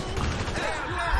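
Gunfire from the video game GTA V, a dense burst of rapid shots rolling continuously through the whole short moment, loud and close, with a heavier blast near the end.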